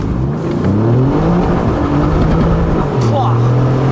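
A car, apparently a high-performance model, launches hard from a standstill on smooth asphalt, its engine note climbing in loud rising harmonics over steady road and wind roar, with people talking inside.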